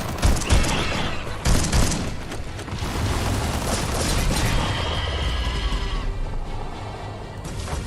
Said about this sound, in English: Yeah, that's my little automaton. He activates and becomes a turret.